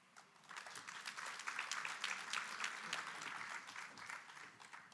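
Audience applause at a provincial G20 education indaba in Mpumalanga, rising from quiet into steady, dense clapping from a seated crowd that carries on for several seconds, moderately distant.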